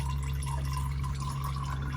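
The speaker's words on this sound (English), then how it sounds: "We're gonna let this drip for a little bit, and then we'll start taking the screws out of the side, out of the transmission pan." Transmission fluid drips steadily from a car's transmission pan after the drain bolt is pulled, a soft continuous trickle over a constant low mechanical hum, with no talking.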